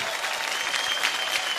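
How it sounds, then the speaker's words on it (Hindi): Strong applause from an awards-show audience after Alia Bhatt's performance, a steady dense wash of clapping with no gaps, held loud and even throughout. "एक बार जोरदार तालियां हो जाएं आलिया भट्ट की इस खूबसूरत परफॉर्मेंस के लिए।"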